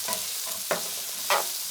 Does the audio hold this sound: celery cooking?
yes